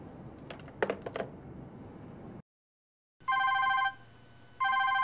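A cell phone rings with bright electronic tone bursts in two bursts separated by a pause, following some clicking and tapping sounds and a moment of silence.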